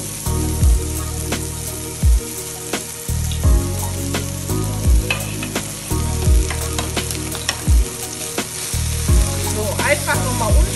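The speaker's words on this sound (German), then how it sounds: "Und ruhig etwas anbraten." Fried noodles sizzle loudly in a hot pan while a utensil scrapes and stirs in repeated strokes, with occasional clinks against the pan.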